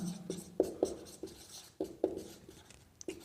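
Chalk or marker strokes on a classroom board during a medical coaching lesson on pulse points, a series of short scratchy taps and strokes in uneven bursts, moderately close with faint room noise.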